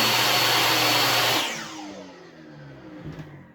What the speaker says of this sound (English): You can hear the vacuum running.